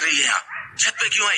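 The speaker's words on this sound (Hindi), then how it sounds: "ये कुत्ता क्यों भौंक रहा है?" A dog barks in the background on a rooftop in short yipping bursts, heard under a voice speaking Hindi throughout.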